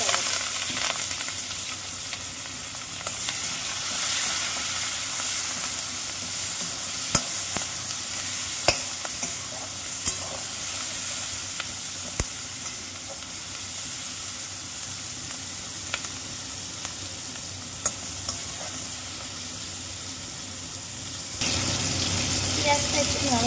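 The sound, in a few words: chopped onion and tomato frying in spiced oil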